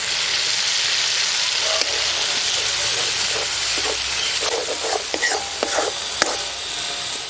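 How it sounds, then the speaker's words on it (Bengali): Spice masala for a village-style Bengali koi fish curry frying in oil in a pan, a steady loud sizzle with scraping stirring strokes that grow more frequent toward the end. "যে স্পেশাল মশলা দিয়ে আর একটু নাড়াচাড়া করে নিলাম।"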